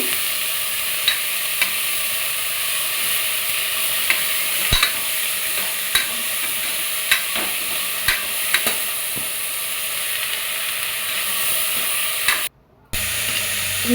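Vegetables and spices for a sambar made with amaranth stems and greens are fried and stirred in a pan, a steady sizzle with regular scraping strokes of the spoon throughout, close and fairly loud, with a brief drop-out near the end.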